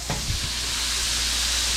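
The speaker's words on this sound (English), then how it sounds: "Now we're frying them up" Bluefish chunks rolled in breading fry in a pan, a dense, steady hissing sizzle with a few brief stirring scrapes at the start.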